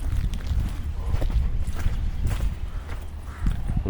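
Hooves of a young horse clip-clop as it walks on a sale lot near Bishkek, a steady, fairly close plodding rhythm under low background noise with no talk.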